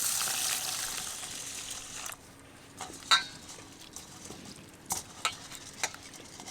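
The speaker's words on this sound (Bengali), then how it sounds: "মুসুর ডালটাকে খুব ভালোভাবে জল দিয়ে ধুয়ে নেব" Red lentils being washed: water rushes and splashes into a bowl for the first couple of seconds, then quieter swishing and a few sharp clinks as the lentils are stirred in the water.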